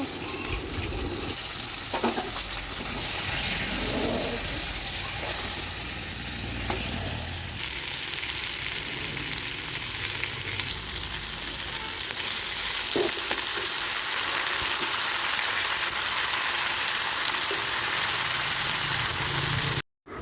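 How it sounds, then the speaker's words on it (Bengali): Bay leaf, dried chilli and cumin tempering in hot oil for a vegetarian papaya dal in a village kitchen, a loud continuous sizzle and crackle close up with occasional stirring scrapes, lasting the whole stretch. "আমার মা গরম তেলে ফোড়ন দিয়েছে তেজপাতা, শুকনো লঙ্কা ও জিরে।"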